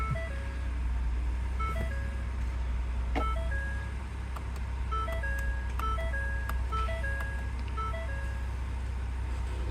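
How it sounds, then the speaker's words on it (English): Ford Puma ST Line X interior chimes: a series of short, clean electronic beeps in repeating melodic patterns over a low steady engine hum. "Loads of beeps as well."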